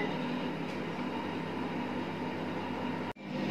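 A microwave convection oven hums steadily while baking a chocolate cake, with a constant even whir and fan noise that ends abruptly with a click near the finish.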